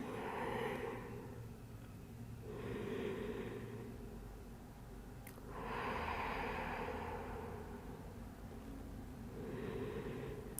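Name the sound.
slow deep breathing during pilates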